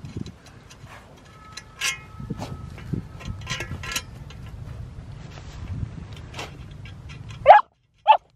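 A hunting dog digging for field rats in Saigon scrabbles and snuffles in the dirt, then lets out two short, sharp barks close by at the end.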